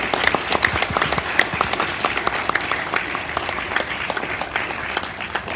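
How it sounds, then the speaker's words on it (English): An audience at a Toastmasters speech event bursts into steady, sustained applause, many hands clapping densely and evenly throughout with no voices standing out. "Please give them a big round of applause."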